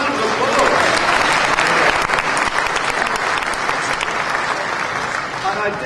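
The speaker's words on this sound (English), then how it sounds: "give him a round of applause" A conference audience at a Rotary International gathering in Bournemouth gives a round of applause, steady, full clapping from many hands throughout, easing slightly at the very end.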